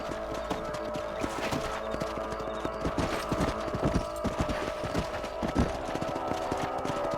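Horses gallop in Red Dead Redemption, a quick, uneven clatter of hooves, steady throughout, with a faint hum in the background.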